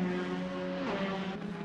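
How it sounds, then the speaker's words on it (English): A steady, faint whine of Praga R1 race car engines in a racing simulator at Monza, droning at high revs, with a slight pitch shift as the sound continues. "love the sound of these cars"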